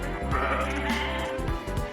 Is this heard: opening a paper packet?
no